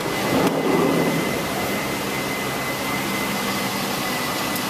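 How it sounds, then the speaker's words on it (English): The rear blower motor of a 2004 Pontiac Montana van runs inside the cabin, a steady broadband whoosh of air with a slight rise at the start, constant and fairly loud throughout. "CD player, also has the rear blower motor back here."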